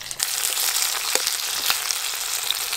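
Fish and potato pieces fry in hot oil in a pan, a dense, steady sizzle with small crackles throughout, close and fairly loud.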